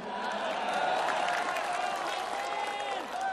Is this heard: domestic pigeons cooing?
no